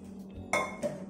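Two brief metallic clanks of a coffee pot being set down on a stove, the first louder, against a low background hum.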